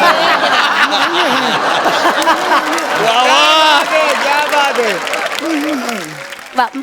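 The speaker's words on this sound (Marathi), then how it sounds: "क्या बात आहे, जोरदार टाळ्या." A studio audience at a Marathi television comedy sketch show claps during an on-stage award moment; the applause runs under constant laughter and chuckles, with voices talking and reacting over it throughout.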